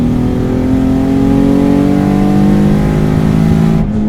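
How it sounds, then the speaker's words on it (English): A 550 hp twin-turbo Infiniti G35 Coupe engine roars steadily as the car accelerates hard, its pitch climbing smoothly through the gear, heard close up from inside. "Damn, that's a fast car."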